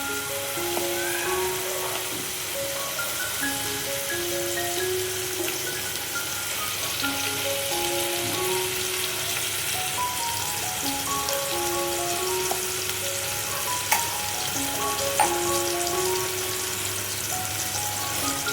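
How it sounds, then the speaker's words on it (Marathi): Tomatoes frying in a pan, a continuous close sizzle with soft stirring scrapes throughout, no voices. "घालायचं टोमॅटो सुद्धा छान फिरवून द्यायचा आहे."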